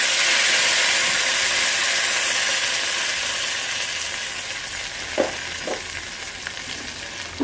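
Tempering spices for ginger chutney fry in a pan with a loud, close, continuous sizzle that slowly fades, broken by a few stirring clinks near the end.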